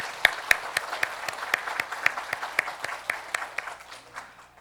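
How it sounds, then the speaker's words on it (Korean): A church congregation claps together during a Sunday service, a loose, steady applause of sharp, close hand claps that thins out and fades toward the end. "우리 다시 한번 박수해 주시기 바랍니다"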